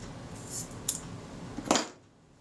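An Agfaflex SLR camera's Prontor-type shutter is cocked and then released, giving a few faint, crisp mechanical clicks, the final snap the sharpest, over a quiet background hiss.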